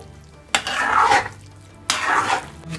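Arroz con gandules, Puerto Rican rice with pigeon peas, scraped and turned over in a pot in two broad stirring strokes, each a rough, grainy shuffle lasting about a second, close by with no talk.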